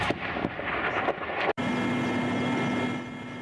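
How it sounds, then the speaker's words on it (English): A military helicopter in an eastern Ukrainian conflict zone near Avdiivka gives off a steady, heavy rotor and engine rumble, with a brief break partway through and no voices. "A military helicopter is sent to pick up the wounded from Avdiivka."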